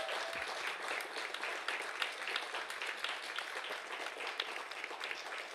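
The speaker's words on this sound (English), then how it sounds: "So I'd love for us to give another round of applause to the panel." Steady applause from an audience, many hands clapping continuously at moderate distance with no pauses.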